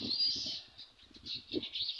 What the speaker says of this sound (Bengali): দেখেন কত সুন্দর বাবুই পাখি উঠছে।